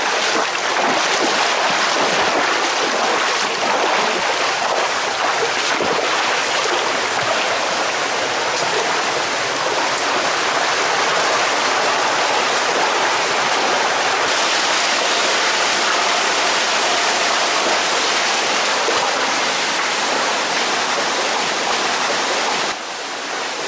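Loud, steady rush of river water pouring through a rocky canyon on a canyoning hike in Guadeloupe, a continuous broadband roar that fills the whole stretch with no voices over it.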